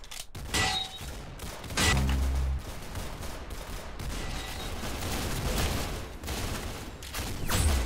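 Gunfire in the Roblox game Arsenal: bursts of sharp shots and rapid fire, loud and close, with thuds between volleys over about eight seconds.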